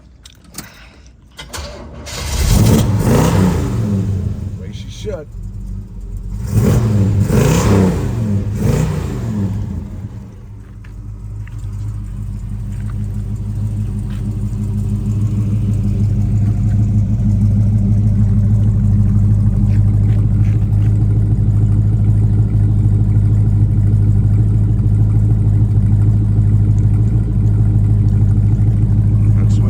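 A 1970 Chevrolet Chevelle engine starts after a few sharp revs amid brief talk, then settles into a steady, loud, rumbling idle that continues to the end.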